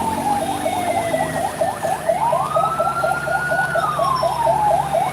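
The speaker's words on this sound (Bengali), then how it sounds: "ফায়ার সার্ভিসের একটি গাড়ি" A fire service truck's siren sounds on a blocked road in Sylhet, cycling through fast yelping pulses and then a rising and falling wail, loud and close, with traffic rumble beneath.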